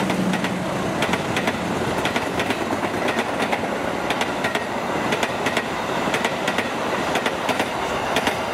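An Indonesian passenger train thunders past on the rails near Bekasi Timur, a steady loud roar punctuated by rhythmic clickety-clack wheel beats from passing carriages.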